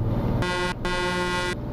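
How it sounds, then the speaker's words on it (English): Truck air horn blasting in the Assetto Corsa driving game, two loud brassy blasts with a brief gap between them over low engine rumble, the second blast longer than the first. "it's got an air horn"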